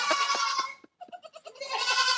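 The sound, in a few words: goat bleating sound effect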